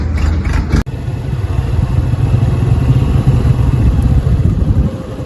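A Honda motorcycle rides along a village road near the Nikli haor in Kishoreganj. Its engine gives a loud, steady, close drone with rattly clatter, after a short knock near the start.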